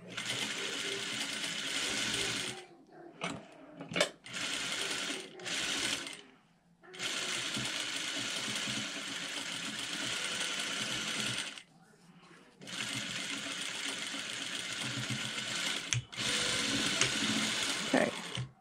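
A sewing machine back stitches a binding strip onto fish net in loud, steady whirring runs broken by short pauses and small clicks of repositioning, with no one talking.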